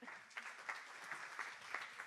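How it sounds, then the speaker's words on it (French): Brief, fairly faint applause from an evening audience at a technological innovation event, a soft continuous patter of hands with a few louder claps rising out of it. "Une main d'applaudissement, s'il vous plaît."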